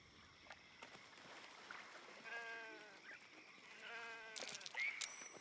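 A sheep bleats twice in the fantasy role-playing game Baldur's Gate 3, with wavering calls set apart by a pause amid a quiet ambient backdrop, then a sharp burst of game sounds at the end.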